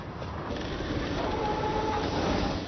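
A Mumbai suburban railway train runs past as a continuous rumbling roar with rhythmic wheel clatter and a faint metallic squeal, fairly loud and close, without voices.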